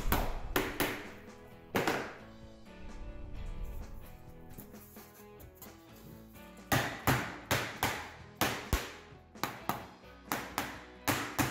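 Wooden dowels for a shaker peg shelf are tapped into glued holes with a series of sharp, close knocks, some in quick rhythmic runs and others spaced apart, with no talking.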